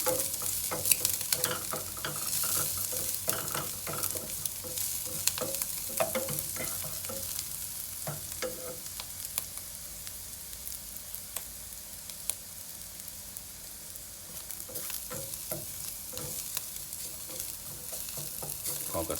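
Garlic frying in a pan for a diabetic-friendly glass noodle and egg stir-fry, a steady faint sizzle with scattered stirring scrapes and clicks running throughout, no voices.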